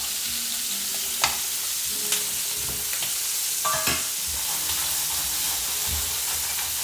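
Prawns and garlic frying in a tilted pan for Spanish tapas, with a steady close sizzle and a few sharp scrapes and clinks of stirring over the hiss.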